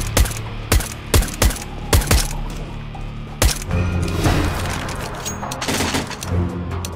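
A CS:GO match with a series of sharp gunshots in a spaced rhythm, followed by a louder grenade blast and rumbling aftermath; keyboard clicks and faint voices sit underneath.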